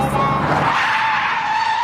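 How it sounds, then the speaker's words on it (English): Car tires screech in a long, steady skid under hard braking in a road-safety public service announcement, loud and continuous from start to end. "If the driver of this car had kept his speed to 100k, here's where he would have stopped."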